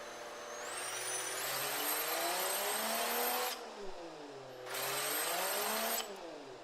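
A turbocharged 1980s muscle car engine in the Automation game revs in two long climbs, a low growl giving way to a rising turbo whine and whistle before each drop back; loud and steady, no voices.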